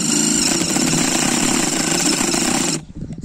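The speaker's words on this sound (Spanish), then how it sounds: "se traba mucho y al empezar a impactar, pues deja de... Se clava en la madera" An impact driver fitted with a spade bit hammers loudly into wood, a dense continuous rattling that binds and jams, then cuts off abruptly near the end, leaving brief quieter handling noises.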